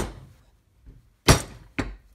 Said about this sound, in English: This is a 3-pound hammer.